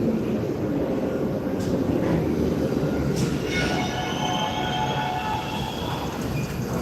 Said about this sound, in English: There's the train, and it's empty.